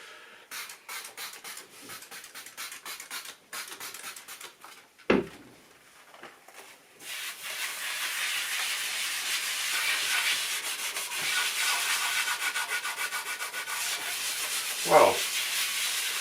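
Sugar soap spray being scrubbed over a dirty painted wall in a kitchen, a steady rubbing and scouring texture running through most of the clip, with a couple of brief louder knocks.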